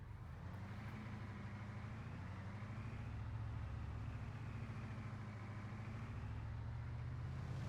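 A Kamaz Typhoon 4x4 truck driving in the DayZ video game, a low steady engine drone with a faint rising rumble, continuous and moderately quiet with no talking.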